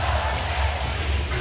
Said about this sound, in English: Some applause going